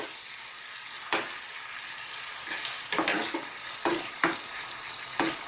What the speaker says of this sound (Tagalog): haluin na din natin